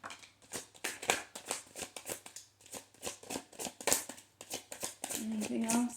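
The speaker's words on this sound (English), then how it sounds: "One more shuffle." Tarot cards are shuffled in rapid crisp riffles and slaps, a quick irregular run of snaps close by, with a brief voice toward the end.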